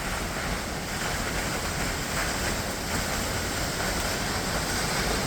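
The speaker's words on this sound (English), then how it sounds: "we got lots of waterfalls" Perrine Coulee waterfall in Idaho gives a continuous, loud broadband rush of falling water, steady and unbroken throughout, with no voices.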